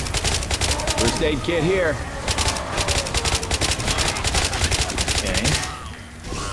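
Rapid gunfire in Left 4 Dead 2 during a survival round in the rain, with steady loud automatic bursts pounding throughout and voices speaking briefly over the shooting.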